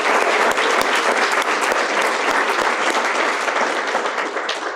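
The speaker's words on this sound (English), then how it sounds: "How about another round of applause?" A large audience at a youth leadership recognition ceremony applauds in a sustained, dense round of clapping that holds steady throughout and eases off slightly at the end.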